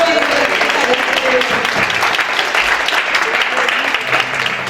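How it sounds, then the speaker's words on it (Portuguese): Audience applause at a recorded church talk program, a dense wash of clapping that stays loud and steady throughout, with a voice or two murmuring underneath. "Palmas."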